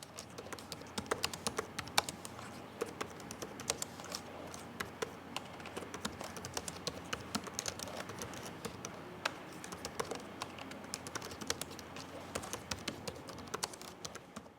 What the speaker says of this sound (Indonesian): contoh suara feedback dari keyboard Asus VivoBook Pro 14X OLED N7401